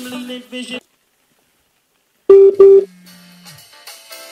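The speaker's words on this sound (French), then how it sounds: "je vais repasser un coup de fil" A phone call is placed through a GEKER CET908 portable Bluetooth speaker with a microphone set beside it, producing two short loud dialing tones and then a sustained low tone. Brief tonal sounds come before a silent gap.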